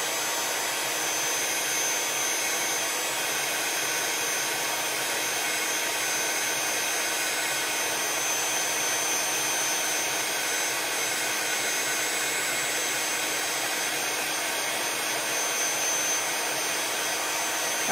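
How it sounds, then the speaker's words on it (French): An overheating heat gun runs continuously with a steady, even blowing hiss and whir, loud and close, unchanging from start to finish. "Moi j'ai des soucis avec mon hot gun, donc il chauffe un peu trop"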